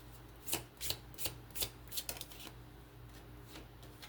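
Oracle cards being shuffled by hand in a quiet room, a run of crisp riffling bursts in an uneven rhythm that grow sparser and fade toward the end.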